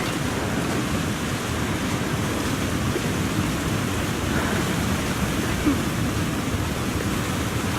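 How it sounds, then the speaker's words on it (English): A steady, full roar of rushing water from a large video game waterfall fills the whole clip, constant and broad, nearby, with no breaks. "I hear a massive waterfall somewhere."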